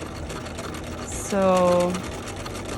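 A sewing machine briefly runs a short back stitch on a spaghetti strap, a whirring burst under a few seconds of a person talking nearby.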